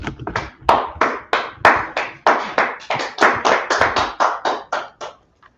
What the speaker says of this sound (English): Clap it up for the class.